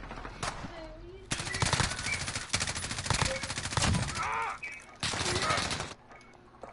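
Call of Duty Modern Warfare gunfire rattles in dense automatic bursts, loud and near, broken by short pauses, with a voice talking faintly beneath the shooting.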